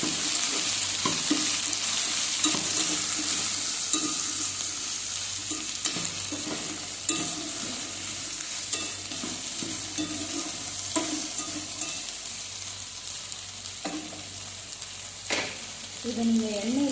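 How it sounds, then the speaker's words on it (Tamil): Okra sautéing in oil in a pan, with a steady close sizzle broken by repeated scraping stir strokes from a utensil, and no talking. "இதை நீங்கள் எண்ணெயிலே வதக்கணும்."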